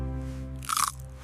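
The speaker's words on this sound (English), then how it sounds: "Crunch." A crunchy sweet snack bitten in a cozy house, giving one crisp, loud crunch burst after a quiet musical background.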